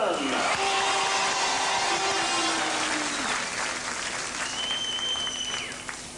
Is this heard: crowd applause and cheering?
yes